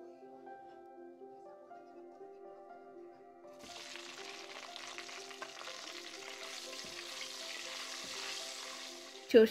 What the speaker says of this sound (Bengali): তেলে বেগুন আর ইলিশ মাছের টুকরোগুলো ভেজে নিয়েছি।